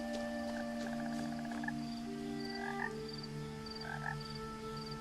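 Frogs croak in steady repeated bursts inside What Remains of Edith Finch, a game soundscape layered over a constant low hum and faint chirping, with no talking.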